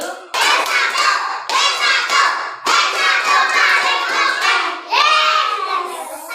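Schoolchildren in a classroom clap together in loud, rhythmic bursts, a patterned class clapping chant repeated in several phrases with short pauses between them.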